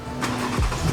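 A car engine runs close by, a brief mid-pitched idle with a low rumble that swells toward the end.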